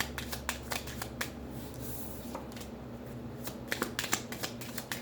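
Tarot cards being shuffled for a past-life reading: repeated crisp riffles and flicks in quick bursts, close and fairly loud, with a quieter stretch in the middle and no talking.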